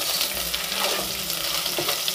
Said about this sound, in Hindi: अब हमने इसके अंदर जो है अदरक लहसुन ऐड कर देनी है और यहाँ पे इनको भी हमने 2 मिनट के लिए अच्छे से जो है वो पका लेना है